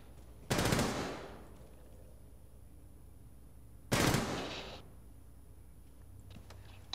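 Two loud bursts of automatic gunfire in the video game Rainbow Six Siege, each a short, close rattling volley that decays into a quiet lull, with no talk over it.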